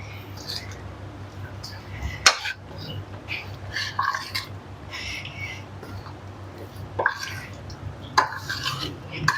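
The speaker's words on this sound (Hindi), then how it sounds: "अच्छे से मिक्स करेंगे।" Chicken pakora batter with soy sauce and chili sauce being mixed in a bowl, soft wet squelching and scraping with a few sharper clinks against the bowl over a low steady hum.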